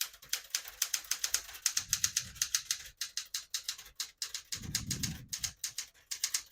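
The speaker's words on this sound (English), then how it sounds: "I'll type a sentence in red on the next line" Keys clack rapidly on a 1974 Smith-Corona Galaxie 12 portable typewriter, typing in red ribbon. The strikes come in quick, uneven bursts, with a couple of heavier thumps from the carriage or space bar.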